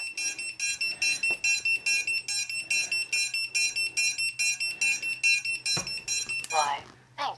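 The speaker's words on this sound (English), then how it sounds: "Buzzer." Quadcopter lost-model buzzer in a darkened room, beeping in a fast steady rhythm of short high-pitched pulses, moderately quiet, with a brief rustle and voice near the end.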